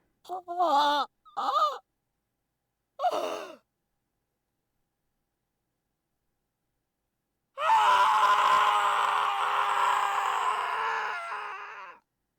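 A scream of despair from the Steins;Gate visual novel: three short breathy sighs or gasps come first, then after a pause a loud, sustained anguished scream holds for about four seconds before cutting off.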